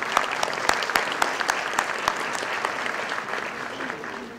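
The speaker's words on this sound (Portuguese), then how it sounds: "Uma salva de palmas ao Evandro." An audience at a state finance department talk applauds a presenter. The clapping is steady and fairly close, with sharp individual claps at first that thin out and fade toward the end.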